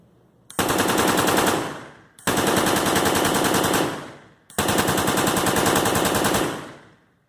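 Propane AK-47 simulator fires three long automatic bursts, each a loud, rapid rattle of reports lasting about two seconds before tapering off, with brief gaps between them.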